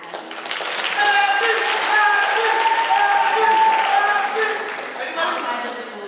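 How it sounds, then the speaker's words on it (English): An audience at a Mr and Ms BHS school pageant applauds a contestant named Abby, sustained clapping swelling for several seconds with a few cheers, then tapering off. "Round of applause for Abby."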